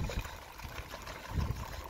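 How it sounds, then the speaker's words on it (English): K-Seal coolant trickling into the reserve tank of a Toyota Corolla Verso 1.8 VVT-i, a faint, soft pour with gentle gurgling bursts, quiet and close. "we're gonna add some more coolant to the reserve tank"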